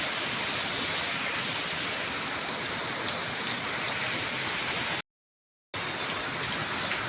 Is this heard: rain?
yes